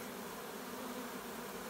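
Bees from a wild swarm buzz steadily in an abandoned top bar hive, a dense continuous hum heard close up with no other sounds.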